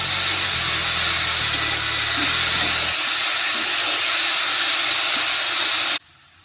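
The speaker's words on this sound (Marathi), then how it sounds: "शेंगा घालून 1-2 मिनिटं परतून घेऊया" Flat beans (val papdi) sautéing in a pan give a steady, loud sizzle and hiss that runs evenly for about six seconds, then cuts off abruptly.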